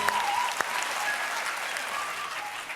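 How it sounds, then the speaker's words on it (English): Studio audience applauding on a late-night comedy show, a loud, dense and continuous wash of clapping that holds steady from start to finish with no talk over it. "Not sure what we're applauding, but thank you."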